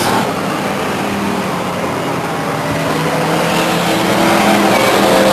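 Race cars roar past at the Stockton 99 Speedway, a loud continuous engine drone through the turn with a faint tire squeal, steady and close, with no talking over it.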